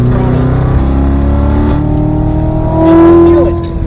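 A car at wide open throttle on the Bosch proving grounds test track, a loud steady engine drone with harmonics climbing as it accelerates and a brief surge near the end, while people talk inside the car.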